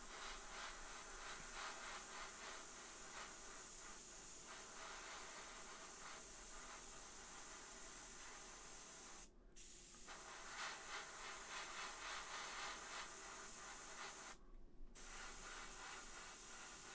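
A steady airbrush hiss sprays paint onto a McFarlane Hellblaster Primaris marine action figure. The faint, continuous spray is cut off by two short pauses.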